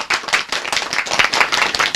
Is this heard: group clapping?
yes